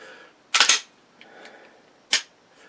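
Two sharp pistol gunshots ring out about one and a half seconds apart. Each is a loud, close crack that decays quickly, with faint ambient noise between them.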